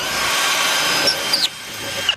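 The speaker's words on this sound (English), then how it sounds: "I'm just going to drill a pilot hole here" A power drill whirs steadily for over a second while drilling a pilot hole, bites briefly, then winds down, leaving quieter workshop noise.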